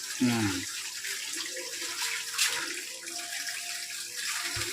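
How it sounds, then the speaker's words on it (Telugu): Fresh fish rinsed under running tap water in a home kitchen for fish pulusu and fry: a steady, close splashing gush that runs through the whole moment, with a few sharper clatters at the start and near the end. "చేపలు వాళ్ళు చేసినా కూడా మనం నీటికి కడగాలి"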